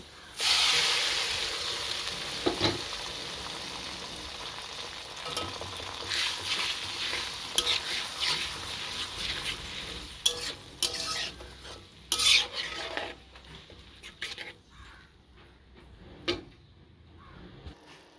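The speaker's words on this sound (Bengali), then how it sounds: "এবার সেই পেস্টটা এর মধ্যে দিয়ে কষিয়ে নেব" A paste of onion, ginger, garlic and dried chili sizzles and fries in a pan, with repeated scraping stirs and occasional clinks of the spoon standing out over a steady hiss.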